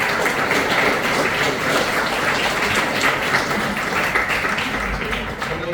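Sustained audience applause at a rabbis' conference in a hotel in Punta del Este, dense and steady clapping from a full room, loud and continuous throughout without a break.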